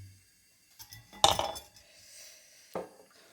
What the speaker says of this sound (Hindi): अपने इस बैटर को इसमें डालते जाएंगे और चम्मच को हिलाते जाएंगे